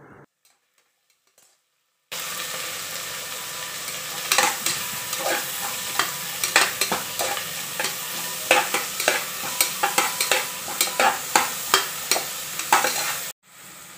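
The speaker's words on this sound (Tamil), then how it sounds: "வெங்காயம் நல்லா பொன்னிறமாக வர மாதிரி வதக்கிக்குவோம்." Chopped onions for mushroom dum biryani sizzle steadily in a pan after a quiet start. A spatula scrapes and taps in a quickening rhythm over the continuous frying hiss, then everything cuts off abruptly.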